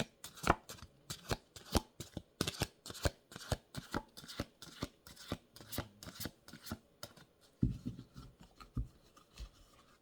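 Tarot cards shuffled by hand at close range, a quick run of soft flicking riffles and taps that repeats for several seconds. The shuffling is faint and there is no talking.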